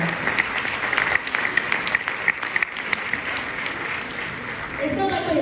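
Audience applause at a live presentation, steady dense clapping filling the whole stretch with a speaker's voice talking over it.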